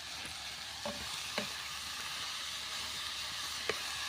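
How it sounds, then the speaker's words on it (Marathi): Spring onion greens sizzle steadily in a hot pan over a wood-fired stove with a constant soft hiss, punctuated by a few light clicks of stirring. "कांद्याची पात टाकूया अर्धीच टाकणार आहे थोडीशी परतून घेऊया"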